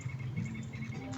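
Near Dinalupihan, Bataan, an insect, likely a cricket, keeps up a continuous, close, pulsing chirr with no voices over it.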